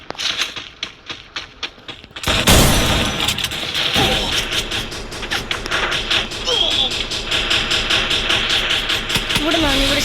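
Video game gunfire crackles in rapid, repeated bursts close up, over a continuous rumbling game soundscape, with a voice talking through much of it.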